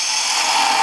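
A turning tool's bevel rubs against spinning wood on a lathe while a bottle stopper is shaped, giving a steady, close hiss of scraping with no break.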